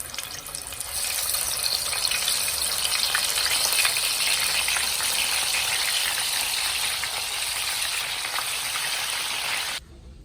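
Four kilograms of chicken cooks in a pot for biryani, giving a steady, bright hiss of frying and sizzling that holds for about nine seconds and then stops abruptly.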